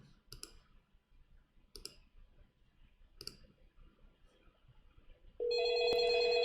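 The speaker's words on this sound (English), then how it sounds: "Ringing." Browser-based WebRTC phone on an Asterisk server running on a Raspberry Pi rings after a few faint clicks, the electronic ring tone bursting in loud and steady near the end.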